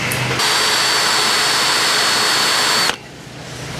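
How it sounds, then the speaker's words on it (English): Power drill boring through hard steel parts for a Kuhns Mfg AF10 update, a loud sustained high whine starting abruptly and cutting off after about two and a half seconds, leaving quieter background. "I might wind up have to drill these"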